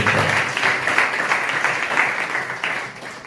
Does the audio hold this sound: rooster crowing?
no